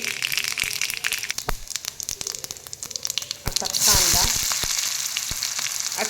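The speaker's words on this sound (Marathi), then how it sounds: "तेल छान तापलं आहे तर आता आपण मोहरी मोहरी उडल्याशिवाय पुढचे कुठलेही जिन्नस घालू नका" Mustard seeds and cumin crackle in hot oil in sharp, irregular pops, followed by a louder rush of sizzling as more goes into the pan, with faint voice in the background.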